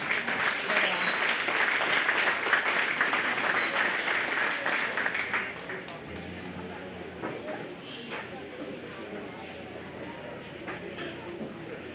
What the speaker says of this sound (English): Give those kids another round of applause.